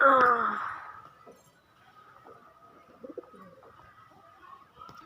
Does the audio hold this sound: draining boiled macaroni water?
no